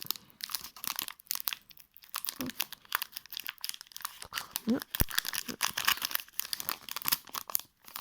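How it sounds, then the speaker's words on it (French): A Pokémon card booster pack is torn open up close, giving crackly crinkling and ripping bursts of the foil wrapper in uneven spurts over several seconds. "Dernier booster, donc j'espère mieux l'ouvrir parce que l'autre j'avais complètement explosé."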